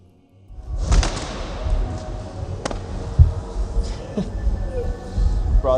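A sudden loud roaring burst erupts as a drone propeller runs away and breaks apart, then sharp cracks and a heavy thud follow amid continuing rough, noisy whirring.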